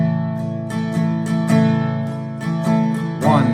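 Guitar strums fall in a steady three-four pattern, each chord ringing out clearly and close, with no voices over the playing.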